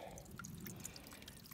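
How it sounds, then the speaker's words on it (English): A small, weak mountain spring on the Appalachian Trail, barely flowing across the path, making faint close dripping and trickling water sounds with no voices. "This is the reliable spring, and that is it. It's not even hardly enough to flow across the trail."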